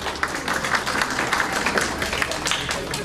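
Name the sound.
audience applause for Harjeet Baji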